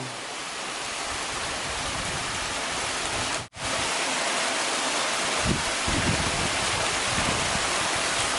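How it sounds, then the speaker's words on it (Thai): Steady rushing water of a flowing stream, a dense continuous hiss that fills the clip with one brief dropout midway; no frogs or voices stand out clearly. "โอ้เสียงน้ำเสียงลำธารกบ"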